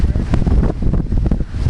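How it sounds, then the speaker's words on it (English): Strong wind roars and buffets the microphone during a sandstorm at Lake Powell, a dense, continuous low rumble with gusty fluctuations throughout. "I think the wind's blowing it"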